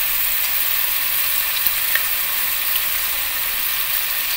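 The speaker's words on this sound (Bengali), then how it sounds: "এখন এগুলিকে আমি একটু একটু লাল করেই ভেজে নেব।" Potato pieces frying with salt and turmeric for Bengali-style dum aloo, giving a steady, even sizzle with no voices and only a couple of faint clicks.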